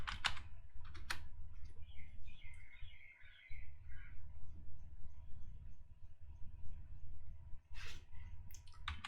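A password is typed on a computer keyboard during a git install, with short bursts of keystrokes at the start and again near the end and faint bird chirps in between.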